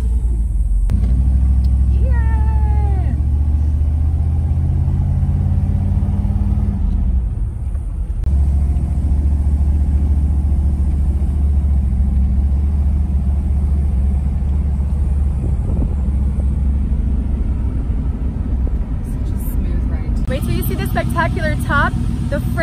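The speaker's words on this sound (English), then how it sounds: "I'm going to do a quick, very small acceleration." A 1954 Mercury Monterey convertible accelerates gently with a deep, loud engine rumble from inside the car that eases briefly as it shifts, then builds again, with people talking over it.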